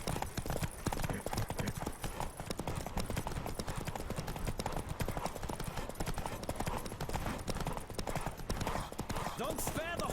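Rapid hoofbeats of a galloping horse in the video game The Witcher 3 pound continuously, dense and loud, with a voice speaking over the rhythm and a brief whinny near the end.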